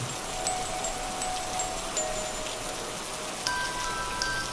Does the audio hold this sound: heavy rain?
yes